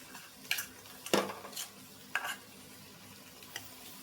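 A spoon scrapes and clinks against a pot as masala paste is stirred into vegetables for veg biryani, a few sharp irregular strikes over quiet background sizzle.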